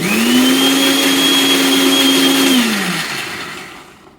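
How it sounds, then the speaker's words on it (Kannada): Mixer grinder grinding spicy chili masala with a loose part: a loud, steady motor whine running close and alone, then dropping in pitch and dying away as it is switched off. "ಖಾರ ರುಬ್ಬಿದಾಯ್ತು"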